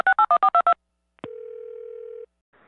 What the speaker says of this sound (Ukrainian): Ви, будь ласка, наберіть приймальню керівника виробничих служб.